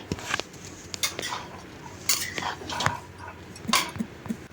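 Spoon scraping and clinking in a pan while masala chicken with turmeric and salt is stirred; irregular metallic taps and scrapes, fairly close, with no talking.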